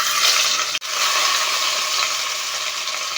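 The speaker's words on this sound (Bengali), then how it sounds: "এবারে ডিম ভেজে নেব।" Eggs fry in ghee in a wok with a steady, close sizzle and crackle that runs the whole time, broken once by a brief gap.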